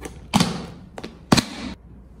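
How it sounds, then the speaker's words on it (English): A jar lid screwed tightly shut on a jar of pickled cucumbers in cold water, heard as two short, loud creaking twists about a second apart followed by quiet. "then tightly close the lid."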